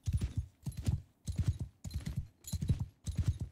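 Horse hooves in the video game Mount & Blade II: Bannerlord, a steady galloping clip-clop in six repeating bursts, close and fairly loud, with no talk over it.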